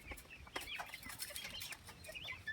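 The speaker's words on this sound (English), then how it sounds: "These are our baby chicks." Baby chicks kept in a coop right beside a backyard swimming pool peep and cheep in quick, overlapping high chirps, fairly faint and close, with a soft rustle underneath.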